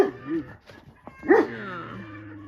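A farm dog named Digger giving a couple of short, close barks mixed with whiny yips, loud and near, with brief pauses between.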